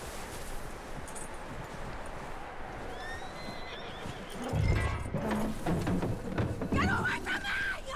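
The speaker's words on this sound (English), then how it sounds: "that looks like a decent horse. You should keep him. Get that horse hitched." A horse in the video game Red Dead Redemption 2 neighs over rustling outdoor ambience, then its hooves clop and shuffle close by, louder in the second half.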